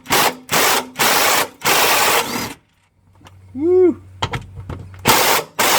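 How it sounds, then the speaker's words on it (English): An impact wrench, or rattle gun, works on the tail shaft of a Nissan 300ZX Z32 in several loud buzzing bursts separated by short gaps, and someone whoops partway through. "I can actually just slide the bearing down the shaft and get the rattle gun on there"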